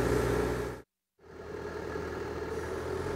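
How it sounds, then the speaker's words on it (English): A Komatsu HB205-1 hybrid excavator diesel engine idles at low revs, a steady, even mechanical rumble close by, cut by a brief silent gap before it resumes unchanged. "The HB205-1 engine idles at about 700 RPM during auto deceleration."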